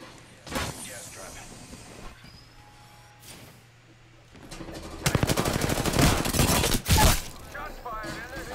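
Close gunshots ring out in a rapid burst, loud and crackling, then one last heavy bang, with voices around them.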